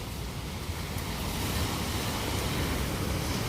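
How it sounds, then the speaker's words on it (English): Lake waves breaking on a beach at Presque Isle beside a lighthouse on a windy day, a steady broadband wash of surf with wind noise, continuous and fairly close, no voices. "the waves are kicking up a little bit"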